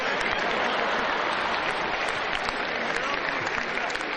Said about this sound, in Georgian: აბა, ტაში გავაცილოთ.